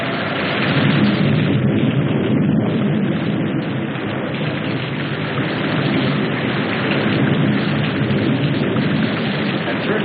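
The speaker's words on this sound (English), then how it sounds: "though it seemed heavier than any rain we'd ever seen" A dense, steady roar of heavy rain pours continuously with no breaks, loud and close throughout.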